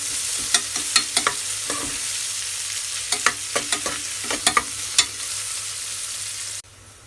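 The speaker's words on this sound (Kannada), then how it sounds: "ಉಳ್ಳಾಗಡ್ಡೆ ಎಲ್ಲ ಚೆನ್ನಾಗಿ ಕೆಂಪಗೆ ಗೋಲ್ಡನ್ ಕಲರ್ ಆಗಬೇಕು. ಅಷ್ಟರವರೆಗೂ ನಾವು ಫ್ರೈ ಮಾಡ್ತಾ ಇರಬೇಕು." Onions frying in a pan toward golden brown for egg biryani, a loud steady sizzle up close punctuated by quick clattering spatula strokes in short bursts, cutting out abruptly near the end.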